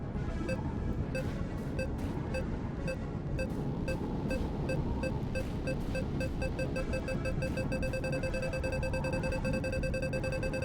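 Fast electronic radar beeps from the VirtuaVerse video game ring out in a rapid, steady series of tones, layered over a dense game soundscape of music and effects, with a sustained higher tone running through the last few seconds.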